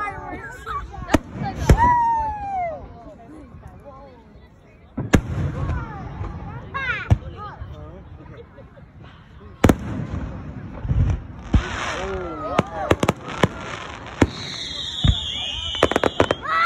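Fireworks explode with sharp loud bangs and crackling bursts at irregular intervals, some near and some farther off, with several rising whistles and occasional voices of onlookers between blasts.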